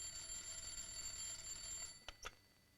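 A telephone in a 1950s Japanese home rings faintly as a steady, continuous bell tone, then stops, followed by a couple of soft clicks.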